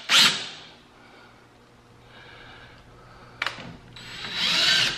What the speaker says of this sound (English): So now you actually use the bit in reverse.